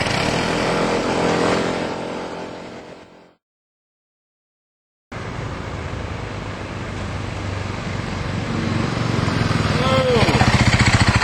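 A Hyosung 250cc scooter engine on a test drive, a steady droning motor with a short gap of silence, then rising louder as it accelerates along the road.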